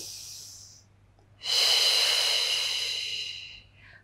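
A single long, loud breath drawn in through the nose during an intermediate Pilates mat exercise: airy, hissing and close, lasting about two seconds, then fading into a quiet room with no talking.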